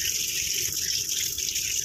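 Water runs steadily from a kitchen tap as food is rinsed, a loud, even gushing splash with no pauses.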